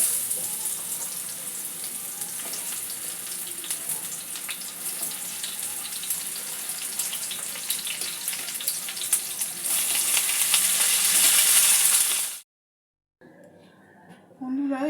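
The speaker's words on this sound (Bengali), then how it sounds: "একই তেলে আলু আর পটলগুলো আলাদা আলাদা করে ভেজে নেব।" Potatoes and pointed gourd frying in oil: a steady, loud sizzle that swells near the end before cutting off abruptly, followed by brief quiet kitchen sounds.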